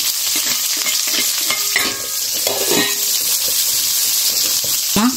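Garlic and onion sauté in hot tempering oil with mustard seeds and dried chillies, a loud close sizzle broken by repeated stirring scrapes and a few sharp clinks, ending with a brief louder scrape.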